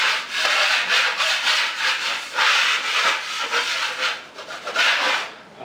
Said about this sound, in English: I'm just going to scrape all this away here.